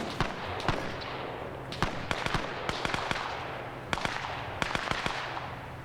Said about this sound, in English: Both sides throwing nades